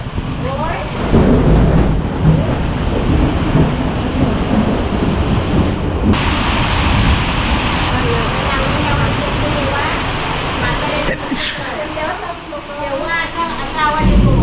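Heavy monsoon rain pours steadily in the Konkan while deep thunder rolls and rumbles, loud and close, with voices talking faintly underneath.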